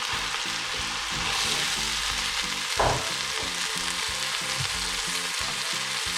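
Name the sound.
soaked rice being stirred into frying pan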